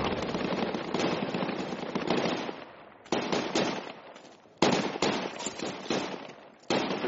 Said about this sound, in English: There's a guy off blue squad shooting at the house.